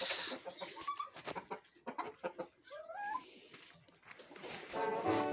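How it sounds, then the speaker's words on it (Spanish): Several chickens clucking and squawking close by, with busy overlapping calls and a brief rising squawk in the middle. "vamos a soltar las gallinas"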